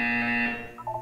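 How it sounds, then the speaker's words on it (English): An electronic buzzer from the video game Portal 2 sounds as a steady, loud tonal drone, then fades and gives way to a few short, higher beeping tones at the end. "When you hear the buzzer, look down at the floor."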